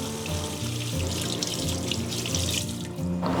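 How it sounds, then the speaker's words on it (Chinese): A pork tenderloin is rinsed under a running kitchen tap, water splashing and gushing unevenly over the meat in the sink before the flow cuts off abruptly near the end. "我们给它清洗干净"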